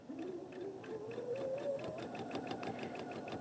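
Sewing machine stitching quilt patches, a fast steady mechanical whir with rhythmic needle clicks running continuously at close range.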